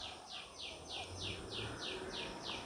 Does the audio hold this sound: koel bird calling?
yes